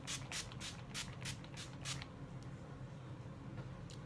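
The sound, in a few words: makeup setting spray being sprayed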